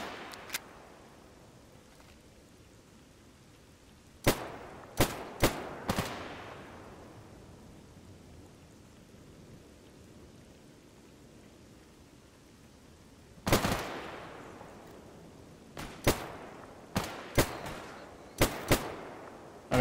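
Gunfire from the S.T.A.L.K.E.R. GAMMA game: sharp, loud shots ringing out singly and in short clusters, with a long gap before a renewed burst of several quick reports near the end.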